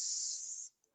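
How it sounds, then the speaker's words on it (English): Single short burst of hair spray from an aerosol can during a haircut, a close, steady hiss lasting under a second before cutting off. "let me just put a bit of spray. Tiny amount."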